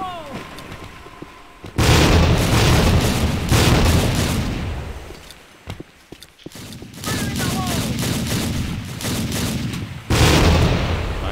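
A grenade bursts amid heavy gunfire in the Tactical Ops tactical shooter game, loud sustained volleys of shots with sharp booming blasts, close and dense, while players talk over the din.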